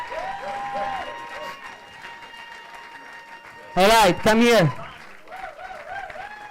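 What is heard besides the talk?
audience applause at poetry slam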